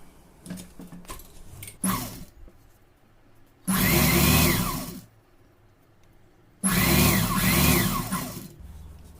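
An electric sewing machine stitches folded chudidar pant cloth in two steady whirring runs of a few seconds each, separated by quiet handling, with light clicks and fabric rustle before the first run.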